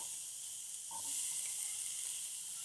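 Chopped onion frying in hot oil for sambar gives a soft, steady sizzle throughout, quiet and close, with no talking.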